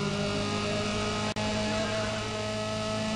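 A car engine in Need for Speed ProStreet, droning steadily and loudly with a constant buzzing whir and cutting out for a brief instant partway through, with no talk.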